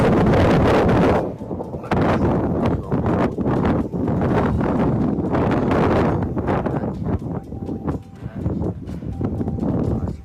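Outdoor wind gusts buffet a microphone in a deep, rumbling roar that surges and dips in uneven bursts for the whole stretch.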